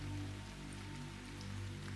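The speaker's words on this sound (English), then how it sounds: "Now it's raining, and you may wonder if that's just a graphical effect, but no, it isn't actually." Steady rain falls in the video game GemCraft, a continuous hiss of drops layered over a sustained low musical drone, even and unbroken throughout.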